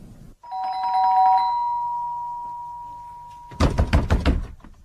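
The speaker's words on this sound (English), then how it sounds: "I want you to ring the front doorbell." A front doorbell rings with a sustained electronic chime, followed by several loud, heavy knocks on the door.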